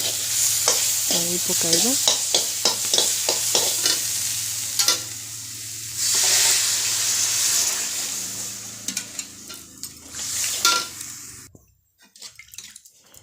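Potatoes and masala being stirred and frying in a pan, with repeated scraping stirs over a steady sizzle; the spoon clatters close and loud, and the cooking quiets near the end.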